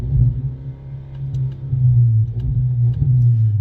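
A Ford Maverick with a custom exhaust is held at full throttle, heard from inside the cab as a steady, muffled low engine drone and rumble that holds for a few seconds.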